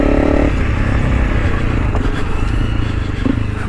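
A Honda CRF300 Rally motorcycle rides off-road, its engine buzzing and revving close by, with scraping and clattering from rough terrain under the wheels.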